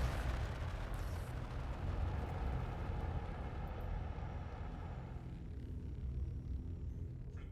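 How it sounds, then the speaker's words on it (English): Size 5 torpedo hit in a space combat video game near the Grimhex station, a loud deep explosive rumble that starts at once and slowly fades over several seconds. "Torpedo hit. Wow, I just created a war zone outside Grimhex."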